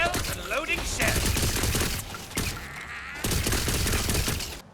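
Rapid bursts of gunfire from a spell-enhanced gun build in Tiny Tina's Wonderlands, loud and close, with quick repeated shots that briefly break off and resume, plus a few magical whooshes.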